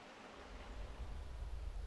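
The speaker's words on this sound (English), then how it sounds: "This water then re-enters the river downstream." The River Neb flows with a soft, steady rushing wash, faint and broadband, slightly swelling, with no voices.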